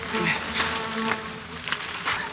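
Insects and mosquitoes buzzing in the Amazon jungle, a close, shifting whine that swells and fades in several passes over a soft background hum.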